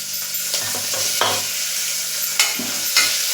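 Finely chopped green chillies and half a tomato sizzle and fry in a pan for fasting moraiya khichdi, a steady loud hiss broken by a few sharp stirring scrapes, with no talking.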